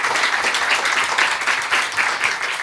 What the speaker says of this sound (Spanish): quiero que le den un aplauso a Yolanda y a María José